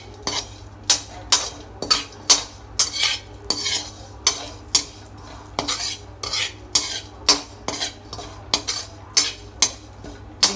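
Panjiri ingredients are dry-roasted and stirred in a pan, a metal spoon scraping and clinking against the pan in quick, irregular strokes. A faint sizzle sits beneath, with no talking.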